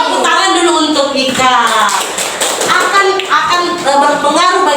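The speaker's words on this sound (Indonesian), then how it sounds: "Tepuk tangan dulu untuk Ika." Students in a classroom clap their hands in quick, rhythmic bursts while voices chant loudly over the clapping.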